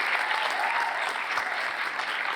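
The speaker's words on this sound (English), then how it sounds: "Let's give a round of applause." A hall audience at the Shannon Region Junior Chef of the Year 2024 competition gives a round of applause, a dense, steady wash of clapping that holds evenly from start to finish.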